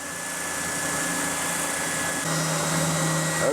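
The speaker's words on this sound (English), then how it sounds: "I want to let the sander do the work." A power sander grinds steadily on the fretboard of a custom Telecaster guitar neck, a loud continuous whirring hiss that deepens slightly partway through and holds to the end.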